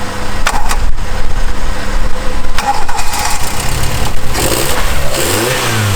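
A Toyota Glanza engine that had not been started in months revs while driving, rising and falling in loud, close surges with a few sharp transient knocks, under occasional talk.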